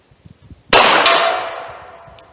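A .38 Special bullet strikes a metal tank 45 yards away, giving a single loud metallic clang that rings out and slowly decays over a couple of seconds after a few faint soft sounds.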